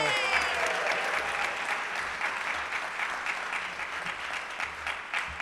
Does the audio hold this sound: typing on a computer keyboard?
no